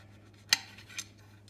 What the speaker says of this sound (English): Very gently slice them all the way through.